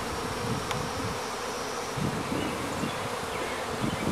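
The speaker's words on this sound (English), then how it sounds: "They always bring more bees back with her every time they come." Dense, steady buzzing of many honey bees and drones at a hive entrance and landing board, some fanning, a continuous close drone that swells slightly as bees fly past.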